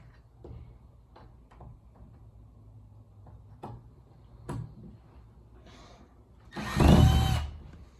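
A drill fastens a handle onto a closet door, a short loud burst late on after quieter knocks and clicks from handling the door and hardware.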